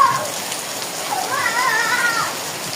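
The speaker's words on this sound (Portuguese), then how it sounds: "Brinca mais um pouquinho na chuva, só mais um pouquinho." Heavy rain hisses steadily and loudly outdoors while a child plays in it, with faint high voice-like sounds rising through the downpour.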